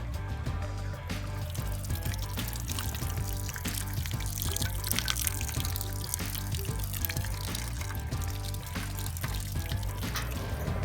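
Barleywine wort draining from a mash through a strainer, a steady continuous pour of liquid running throughout with a low rumble beneath it.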